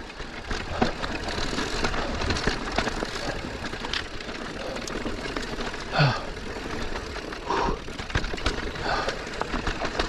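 Enduro motorcycle engine drones steadily while riding a wooded trail, a continuous rough buzz with small surges and bumps, close and fairly loud throughout.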